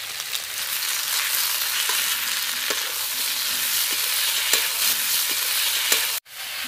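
Eggplant and mixed winter vegetables fry in a pan with a dense, steady sizzle, faint spatula strokes ticking through it before a brief cut near the end.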